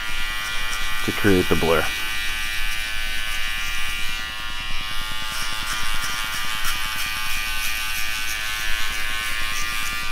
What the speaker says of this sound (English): as I work my way down, I move the clipper with the grain